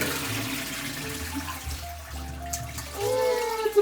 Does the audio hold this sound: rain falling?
no